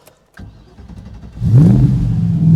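A 1992 TVR V8S V8 engine cranks and catches, then revs up loudly and settles into a deep, throaty idle, close by.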